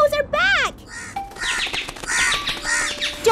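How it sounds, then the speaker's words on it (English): Cartoon crows caw in harsh, rising and falling calls over a busy cartoon soundtrack, close and fairly loud, with chirpy squawks layered throughout. "Oh no! The crows are back!"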